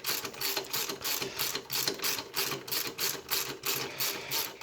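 Rapid clicking of a ratchet wrench tightening a bolt to tension the alternator belt on a 2001 Subaru Legacy, a steady, close, mechanical ticking that runs continuously with no talk.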